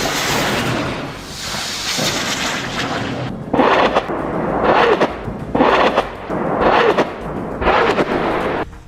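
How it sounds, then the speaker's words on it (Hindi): Heavy explosions follow rocket fire at night during the Israel–Hamas war: after a continuous rumbling roar, a series of about six loud, booming blasts rolls in at roughly regular intervals, with no voices. "इन रॉकेट्स के फायर होने के बाद वीडियो में कई धमाकों की आवाजें सुनाई दे रही हैं।"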